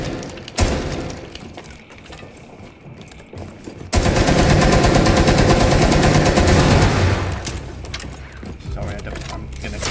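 Automatic gunfire in Rainbow 6 Siege: scattered shots and game mechanisms early, then a loud sustained burst of rapid fire lasting several seconds before tapering into quieter clatter, with voices talking over parts of it.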